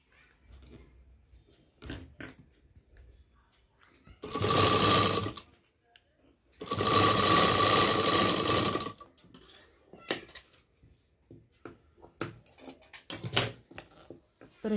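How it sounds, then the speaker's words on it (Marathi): A sewing machine stitches piping onto a princess-cut blouse, running loud in two bursts of a few seconds each, with quieter handling clicks and fabric noises between them. "हे कापड फक्त या पट्टीमध्ये ढकलायचं आहे आणि एक शिलाई मारून घ्यायची आहे"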